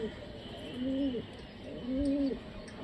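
A Giribaz pigeon coos twice nearby, each a soft, low rolling call about a second long, over faint background hiss.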